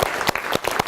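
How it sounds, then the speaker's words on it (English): Close, sharp handclaps rattle quickly from a small group, with individual claps standing out in a brief burst. "a round of applause"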